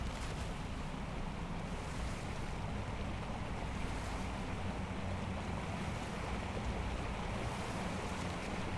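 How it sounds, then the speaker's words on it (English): Steady, dense rushing water from a small waterfall inside an icy cave in the video game ARK, a constant broadband roar that stays loud and unbroken with no talking over it. "It's just through this little waterfall"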